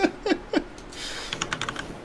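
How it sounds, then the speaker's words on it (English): Computer keyboard typed on rapidly close to a microphone, a quick burst of heavy clacking keystrokes, then lighter irregular tapping continuing to the end. "Someone's typing really furiously."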